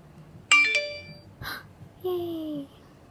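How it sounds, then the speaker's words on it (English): Phone notification chime, a bright two-part electronic tone: a sharp ringing note that fades, then a short descending sweep, clear and close, with a brief voice sound in between. "I got a notification."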